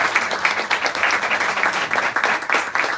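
An audience at an author's book event applauds, brisk, dense clapping from a roomful of people that holds steady for a few seconds at moderate volume.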